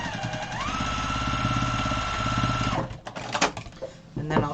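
A sewing machine double-stitching a large grocery tote bag, running in a fast, steady mechanical chatter for nearly three seconds, then stopping, followed by a few short bursts and handling noises.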